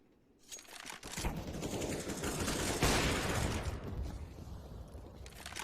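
An AK-47 sprays rapid automatic gunfire in a Counter-Strike match, a dense fusillade of shots that swells and then fades over several seconds, with faint background game noise.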